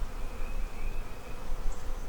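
Honeybees hum around a hive box in a beekeeper's yard, a steady close buzzing with a faint passing drone over low wind-like rumble.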